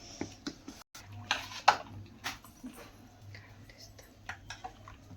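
Rice flour batter is mixed in a bowl, with light tapping and scraping clinks at an uneven pace. A faint low hum runs underneath.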